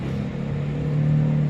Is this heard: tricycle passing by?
yes